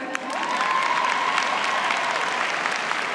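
Applause from the audience at Spelman College's 2026 commencement ceremony, a dense, steady wash of clapping with some cheering. It holds loud and continuous throughout.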